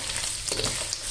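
Cumin powder and black pepper powder fry in a pan for egg fried rice, giving a short, steady, close sizzle with no voices.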